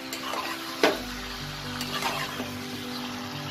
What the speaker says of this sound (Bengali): ভালো করে মশলার সাথে চিকেনটাকে মিশিয়ে নেব।